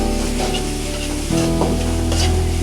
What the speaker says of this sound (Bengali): এই যে দেখেন ভালো করে মশলাটা কষাইতেছি।